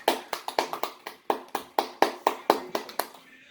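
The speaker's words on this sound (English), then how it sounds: "Let's give them a clap." Irregular clapping from a couple of people at close range, about fifteen sharp claps in a loose rhythm that slows and stops, with no talking.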